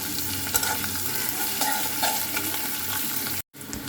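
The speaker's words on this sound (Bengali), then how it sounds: "আমি পেঁয়াজটা বেশি ভাজবো না অল্প ভাজবো" Onions and green chilies frying and being stirred in a pan, a close, steady sizzle with scraping and clinking of the spoon, then a brief cut-out near the end.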